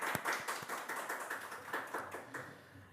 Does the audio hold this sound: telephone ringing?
no